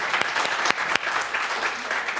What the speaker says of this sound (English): So I have to give her a big round of applause.